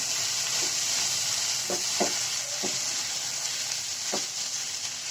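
Onion paste frying in a little oil for chicken korma gives a steady, bright sizzle, broken by several short scraping knocks of a spoon stirring the pan.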